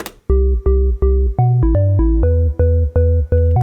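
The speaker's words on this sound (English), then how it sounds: "making like a classic 90s house bass" Classic 90s house synth bass, dry and unprocessed, playing a punchy riff of short, loud, evenly spaced notes that step between pitches with brief gaps, alone with no voices.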